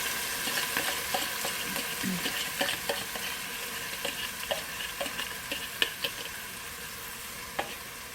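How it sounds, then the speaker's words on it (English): Seasoned pot roast meat searing in a pan, a steady sizzle broken by repeated clicking and scraping stirs with a few sharper taps, no talking. "we're going to sear the meat on each side"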